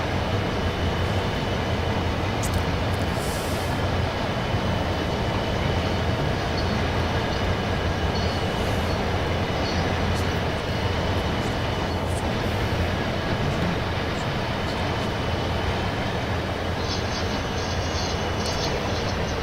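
A freight train hauling empty tanker cars rolls into a yard in the Train Sim World 5 game, a loud, steady rumble of wheels and engine throughout with faint clicks above.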